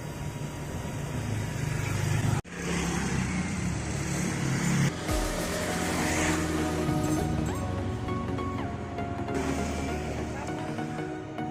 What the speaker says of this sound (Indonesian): Sebentar, ada mobil dulu yang lewat.